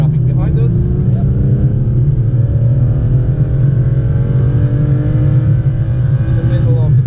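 A car accelerating on the Nürburgring track, a loud steady engine drone with rising pitch as it gathers speed, heard from inside the cabin.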